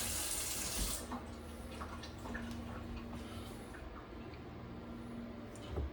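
Tap water runs steadily into a sink while raw chicken is rinsed, a constant close hiss and splash with a brief louder gush at the start and a few faint clicks, no talking.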